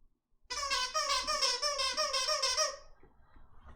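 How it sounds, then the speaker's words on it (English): Squeaky, whining machine noises from a modded Minecraft world (All the Mods 9) sound as one sustained, high, wavering squeal. It starts abruptly, pulses slightly, runs for about two and a half seconds, then cuts off. "I hope you guys enjoy squeaky noises."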